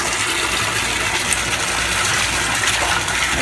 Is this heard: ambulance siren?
no